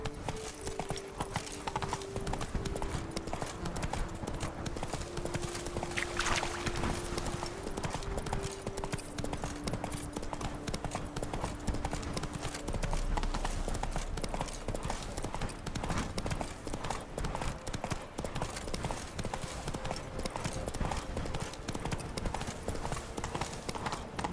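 Horse galloping in The Witcher 3, a steady rapid clip-clop of hooves running continuously throughout, loud and close, with an occasional whinny and background game music.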